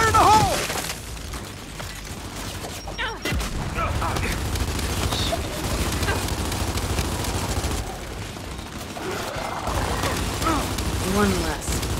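Gears 5 grenade blast amid gunfire, with a sharp loud burst early on and continuous shooting and battle noise all around, while voices shout over the combat.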